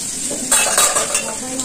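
Food fries in a pan on a gas stove, a loud close sizzle broken by short scraping and clinking stirs over under two seconds.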